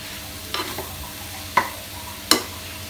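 Potato kachori stuffing mixed with fresh coriander in a pan: a quiet background hiss broken by three distinct scraping stir strokes, close and unhurried, with no talking.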